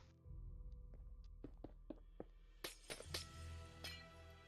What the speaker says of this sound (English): Let's break some glass.